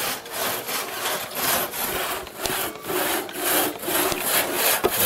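Hand saws cut through wood in repeated rough strokes, a close, steady rasping rhythm of about two strokes per second, heard alone without speech.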